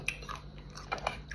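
Someone bites into a small apple dipped in chili salt, a few close, crisp crunches and chewing sounds over quiet background.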